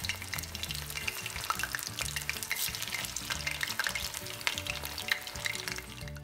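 Chicken pieces fry in very hot oil in a pan for sweet-and-sour chicken, a dense crackling sizzle with sharp pops, close and steady, no voices.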